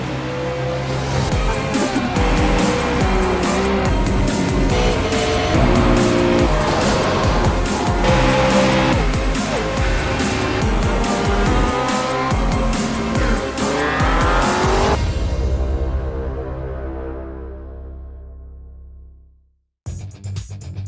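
Simulated V8 race cars lap Canadian Tire Motorsport Park in a racing video game, a loud, unbroken engine roar with tire squeal that fades away near the end before a short burst returns.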